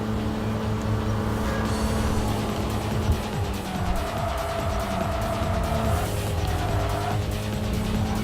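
Tire squeal from a front-wheel-drive Toyota AE111 drifting through a corner in Tokyo Xtreme Racer 3, a sustained screech over a steady engine drone, continuous and fairly loud throughout.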